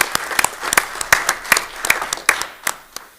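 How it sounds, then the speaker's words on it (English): Audience at a township committee meeting applauding, a crowd of clapping hands with dense, uneven claps rising into sharp peaks, filling the room at moderate loudness and continuing steadily throughout. "let's give him a round of applause for that activity and event"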